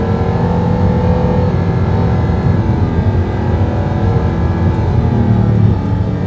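A high-revving sports car engine, a Corvette C8 or Audi R8, accelerating hard: a loud, sustained close engine roar with rising harmonic tones throughout, no talk.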